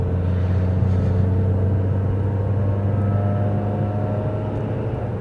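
A car with an engine fault under a recall gives off a steady, loud rumbling drone with a low hum, close by and without pause.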